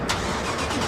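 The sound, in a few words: modified 2015 Toyota Camry XSE engine starting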